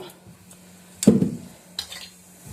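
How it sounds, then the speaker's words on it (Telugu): Mustard seeds dropped into hot oil in a home kitchen for ginger-mango pickle, giving a sudden crackling sizzle with a clatter of utensils, then fading to faint spatter and a second small burst. "నూనె కాగింది కదా ఆవాలు వేసేసుకుందాం"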